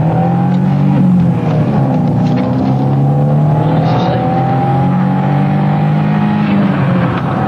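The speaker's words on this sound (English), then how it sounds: "the helicopter and a police patrol are pursuing a suspicious car, which has refused to stop" A car engine roars continuously at close range as the car flees a police pursuit in the UK, revving and shifting pitch as it speeds along, with no voices over it.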